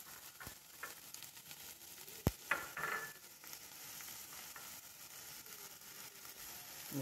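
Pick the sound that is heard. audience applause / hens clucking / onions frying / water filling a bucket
onions frying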